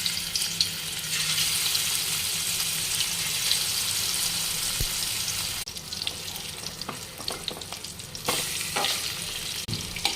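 Pieces of marinated fish fry in hot oil with a steady, loud crackling sizzle, broken later by a few sharper pops and brief clinks as the fish is handled.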